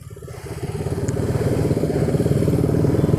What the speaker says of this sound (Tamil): ஏதோ ஒரு பைக்கு ராயல் என்ஃபீல்டுன்னு நினைக்கிறேன்